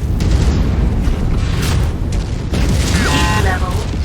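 A mech destroys an enemy target in MechWarrior 5 with loud, continuous rumbling booms and explosive bursts that roll together throughout.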